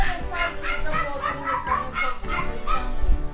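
A dog's yipping, whimpering barks repeat in a quick series over a busy background with voices, in a Jamaican film scene.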